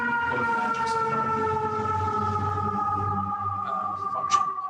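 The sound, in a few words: emergency vehicle siren outside in New York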